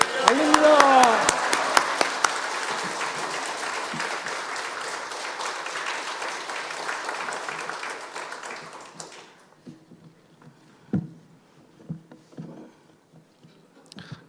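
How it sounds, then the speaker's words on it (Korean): A Korean church congregation at a Sunday afternoon worship service applauds to welcome the pastor, a voice rising briefly at the start, then warm sustained clapping that fades after about nine seconds into quiet rustling and scattered small knocks. "목사님 나오실 때 큰 박수와 할렐루야도 환영하겠습니다."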